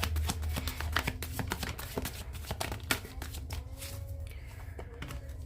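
Tarot cards shuffled by hand at close range, a continuous riffling and sliding patter with occasional sharper taps and brief pauses.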